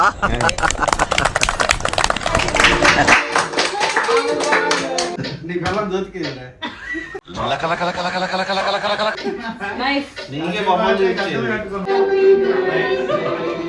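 At a birthday celebration, a group claps in a dense, lively burst for about three seconds. Laughter and lively talk follow, with a few scattered claps.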